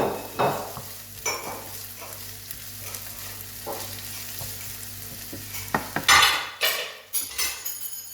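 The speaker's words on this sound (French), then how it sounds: "on va faire revenir nos oignons, notre ail." Onions and grated garlic fry over high heat in a pan, giving a steady sizzle broken by scraping stirs and clinks of a utensil against the pan, with louder clattering toward the end.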